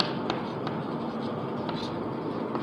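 Chalk or marker scratching steadily across a classroom board, soft continuous writing strokes with a few sharper taps, no voice.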